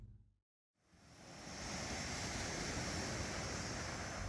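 Steady wash of lake waves at a boat landing near Gombe, Tanzania, rising after a brief silent gap into a continuous broadband surf roar with wind buffeting the microphone.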